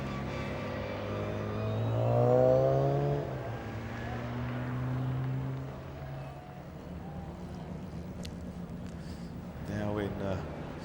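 Several classic Minis racing at Goodwood, engines droning and rising in pitch as they pass near, then fading, with a loud swell around the middle and another approach at the end; a voice speaks over the engines.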